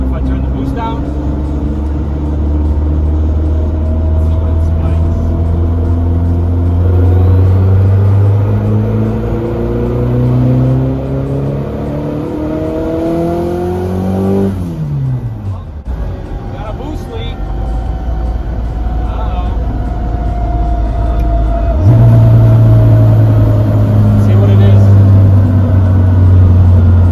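An all-wheel-drive turbocharged Honda Integra engine revs hard and close, its pitch climbing in repeated pulls, dropping sharply to idle midway, then surging back up in a steady loud drone.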